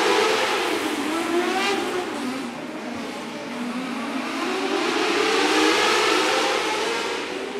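Outlaw wing race cars accelerate together at the green flag in a heat race at the Midwest Winter Nationals, a loud, sustained roar of engines rising and falling in pitch as the field passes.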